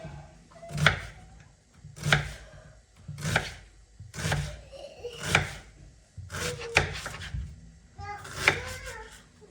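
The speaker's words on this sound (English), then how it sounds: "Now we're gonna chop our onions up." Onions are chopped with a knife in a steady series of about seven firm, evenly spaced strikes close by, each cut landing with a crisp knock.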